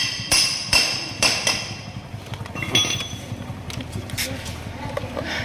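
A tray sealing machine sealing a plastic container on all four sides gives a series of sharp mechanical clunks and knocks, close and fairly loud, while someone speaks over the machine noise.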